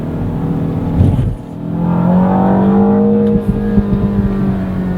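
A 2025 Mini JCW engine revs hard and climbs in pitch in second gear, with a brief dip as it shifts to third, then pulls again, loud and close.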